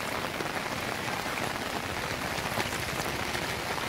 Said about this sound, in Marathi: रात्रीपासून पाऊस चालू आहे